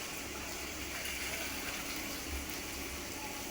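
Steady, close spray of water on plants in an open farm field, a continuous broad hiss-like gush that runs through without a break and without talk.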